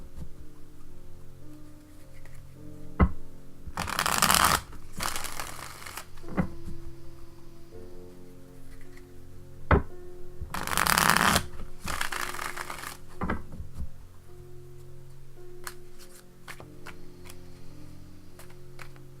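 Tarot cards being shuffled by hand, two close pairs of dense riffling bursts a few seconds apart, with faint soft music playing underneath throughout and no talking.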